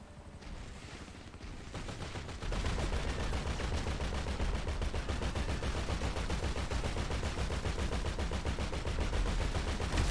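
Sustained automatic gunfire in Grand Theft Auto Online rattles nonstop as a dense, loud barrage, building after a quieter opening couple of seconds and continuing without pause.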